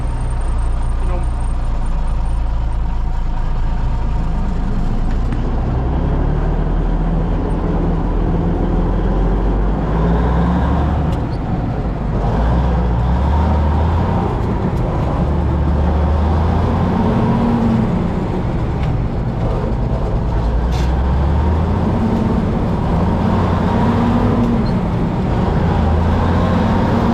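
A Mack LT truck rolling along on a ride, its deep low engine drone and road rumble continuous and loud throughout, with people talking over it.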